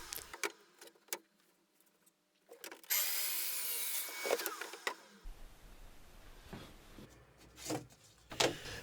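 Table saw set to a 12.5-degree bevel rips a strip of birch plywood for a baseboard: a loud, steady whine of blade through wood runs for a couple of seconds, bracketed by quieter clunks and handling knocks.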